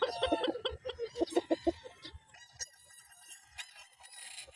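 Young gamefowl stags on a gamefarm clucking in a quick run of close, rhythmic clucks, then softer scattered calls and faint chatter from other birds in the background.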